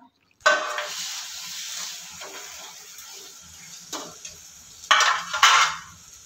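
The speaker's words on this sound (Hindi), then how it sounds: "फिर फ्राई कर लेंगे हम उस बटर वाले पैन में" French toast slices laid into a buttered pan, starting with a loud sizzle that settles into steady frying, broken by a few louder bursts of spitting and clatter from the pan.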